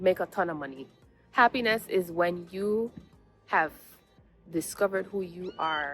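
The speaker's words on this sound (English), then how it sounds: "yes, there is a kitten in the background" A kitten meows softly in the background, faint and intermittent beneath steady close speech from someone talking throughout.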